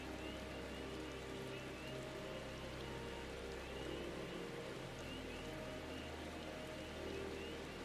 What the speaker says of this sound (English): There'd be several times where I would just sit here and listen to the rain,